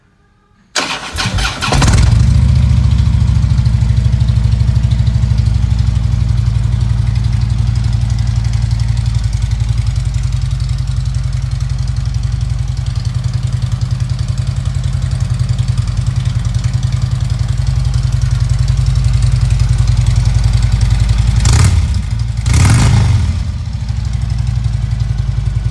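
A 2013 Harley-Davidson Road Glide Ultra starts with a short crank and catches, then settles into a loud, steady, deep rumbling idle nearby, with a couple of brief throttle blips toward the end.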